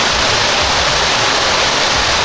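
Balite Falls in Amadeo, Cavite pours in a steady, loud, broadband roar of falling water, close by and continuous with no voices.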